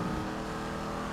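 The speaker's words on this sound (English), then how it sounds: "I do like the sound of the Dominator." Steady, loud engine drone from the Dominator muscle car in GTA 5, a continuous low rumble with no breaks across the short stretch.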